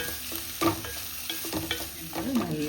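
Chopped capsicum frying in a pan is stirred with a spatula, giving several close scrapes and clacks over a soft continuous sizzle.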